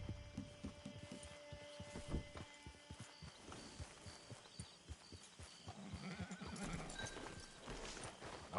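Horses in Red Dead Redemption 2, with a nearby whinny and rhythmic hooves clip-clopping over quiet game ambience, plus faint bleating animals in the background.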